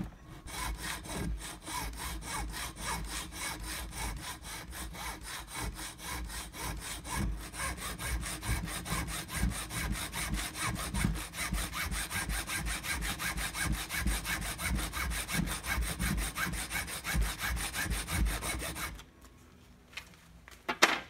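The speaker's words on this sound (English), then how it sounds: "Take my hacksaw right now, and I'm gonna run that through nice and light until we got a couple slots in there." A hacksaw cuts slots into carburetor adjustment screws with a steady, close series of light rasping back-and-forth strokes lasting many seconds, ending in a brief quiet with a few handling clicks.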